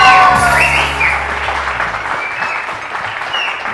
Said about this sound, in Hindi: तालियां तो बजा दीजिए आप.